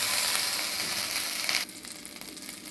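Butter melts in a kadai over heat, giving a dense, bright sizzle that holds steady and then drops suddenly to a softer, uneven crackle. No one speaks.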